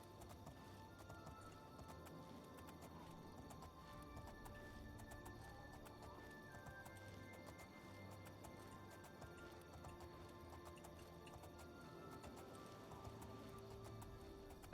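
Hooves clip-clop steadily while riding a horse in The Elder Scrolls IV: Oblivion, a continuous faint gallop under a dense in-game soundscape with music, no talk.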